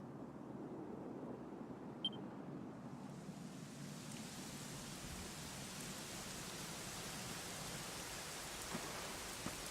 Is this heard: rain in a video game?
yes